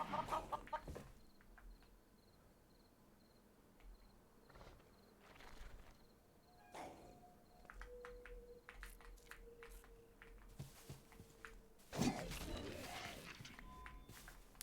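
Scattered Minecraft chicken clucks rise briefly over a quiet game ambience with insect-like chirps, one louder cluck near the end, and faint talk now and then.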